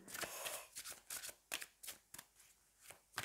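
Tarot cards being drawn from a deck, a run of crisp papery slaps and slides arriving in irregular bursts, close and fairly quiet, with no voices.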